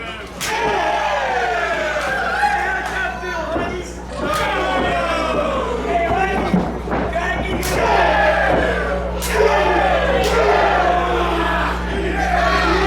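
A wrestler's primal scream rises over a roaring crowd at a live wrestling match, with loud yells and bellows, sharp slams, and a commentator talking throughout.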